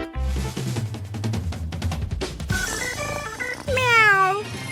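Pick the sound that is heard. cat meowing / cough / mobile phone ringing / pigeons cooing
cat meowing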